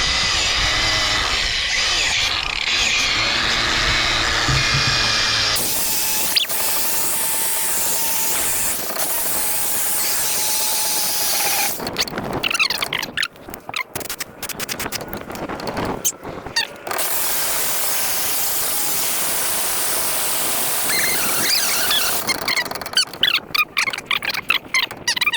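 Power grinder cleaning the drum brakes of a Buick Skylark during restoration, a loud continuous harsh hiss and whine that cuts out, returns in rough bursts and keeps running close to the microphone.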